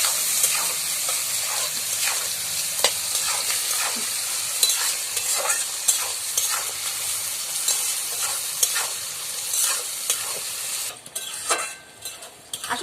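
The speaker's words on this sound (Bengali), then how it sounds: "পেঁয়াজটা আমি ভাজা ভাজা করে নেব বাদামি রঙের" Chopped onions frying in oil with bay leaf and whole spices at an outdoor picnic, a continuous close sizzle punctuated by regular scraping stirs of a spatula against the pot, which eases off near the end.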